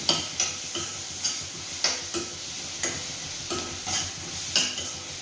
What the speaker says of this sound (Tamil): இஞ்சி பூண்டு பேஸ்ட்டு போட்டாச்சுங்க. நல்லா ஸ்லோ ஃப்ளேமில் வச்சுக்கோங்க.